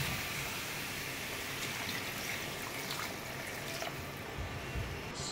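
Water poured into a pan of matar paneer curry, a steady close splashing trickle that runs continuously throughout at an even level.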